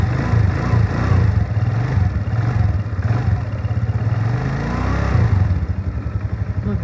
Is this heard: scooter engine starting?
yes